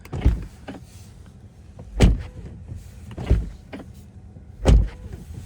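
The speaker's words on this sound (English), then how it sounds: "The new door opening and closing sounds." A 2024 Tesla Model 3 Refresh door being opened and shut, heard as several close, solid thuds spaced a second or two apart, with faint mechanical whirring between them and no speech.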